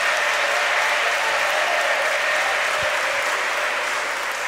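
A congregation at a parish choir competition in a church applauds: thick, sustained clapping from a large crowd that stays loud and even, fading slightly at the end.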